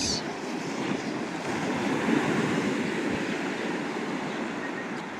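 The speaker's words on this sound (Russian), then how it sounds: "Вот здесь пляж." Sea surf at a beach on the seafront in Mersin, Turkey: a steady, broadband wash of waves fills the whole stretch at moderate loudness, with no voices.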